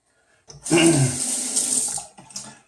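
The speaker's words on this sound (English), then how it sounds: "I'm just rinse the face real quick" Tap water runs and splashes into a sink as a face is rinsed after a shave with Monsavon soap, a steady close rush lasting about a second and a half, then a brief trickle at the end.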